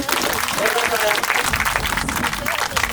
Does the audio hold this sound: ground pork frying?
no